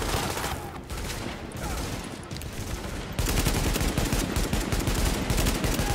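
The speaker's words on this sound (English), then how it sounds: "I'm just shooting and hoping for the best" Rapid, loud gunfire from Tom Clancy's The Division, dense automatic bursts that run without pause and grow heavier halfway through.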